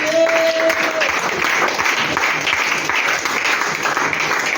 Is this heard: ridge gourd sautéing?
no